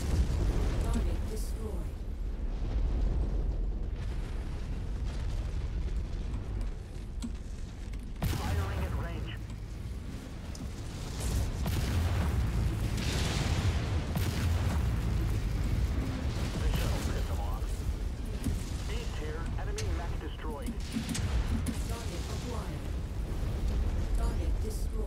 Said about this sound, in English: Say hello to the Gauss rifle.